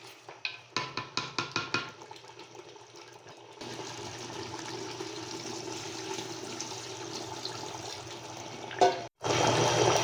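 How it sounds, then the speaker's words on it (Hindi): Mutton paya cooks in a pot. About a dozen quick, rhythmic metallic clinks of stirring come first, then a cup of water goes in as a sustained, fairly loud pouring hiss that cuts off abruptly near the end. "फिर 1 मिनट के बाद दोबारा इसमें जो पानी बचा 1 कप वो डालेंगे।"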